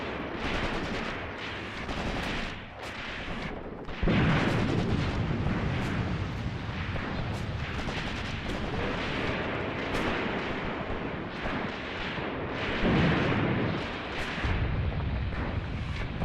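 Machine-gun bursts and scattered rifle shots from the WWII tactics game Graviteam Tactics: Mius Front, with heavier thuds of explosions rumbling through. The battle noise runs continuously and densely throughout, with no voices.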